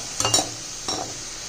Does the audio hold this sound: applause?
no